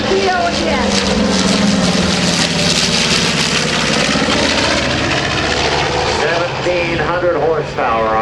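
A B-25 Mitchell bomber with twin 1,700-horsepower engines passes at the Dover AFB airshow, a loud continuous piston-engine roar filling the whole stretch, while an announcer talks over it on the public address.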